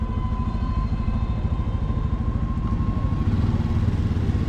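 Bajaj Pulsar N250 motorcycle engine running steadily and close, a continuous low rumbling throb with mechanical clatter and no voices.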